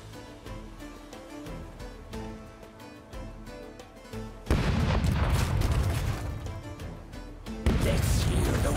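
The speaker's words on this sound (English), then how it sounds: "Let's hear those cannons roar" Heavy booms of ship cannons in the video game Rogue Waters erupt in loud bursts, a dense barrage of blasts that crash in twice over a backdrop of rhythmic music.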